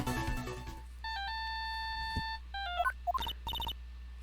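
A phone rings in the Phoenix Wright: Ace Attorney – Justice for All video game, first as a steady electronic tone, then as a short run of stepped beeping notes that finish with quick chimes, all fairly faint over a low hum.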